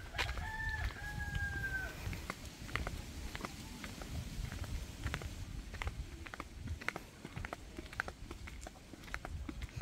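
Chickens at a rural farm make faint clucking calls with a brief crow-like call near the start, heard at a distance over steady outdoor rustle.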